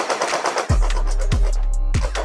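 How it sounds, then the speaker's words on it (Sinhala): A Desert Eagle–style electric gel blaster toy pistol firing three shots, each a sharp crack followed by a loud motor whir, close and alone. "දැන් අපි බලමු මේකේ ෂූට් කරලා."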